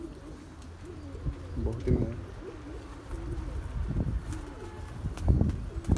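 Pigeons cooing in a group, their soft, low, rolling coos repeating steadily at close range while someone talks over them.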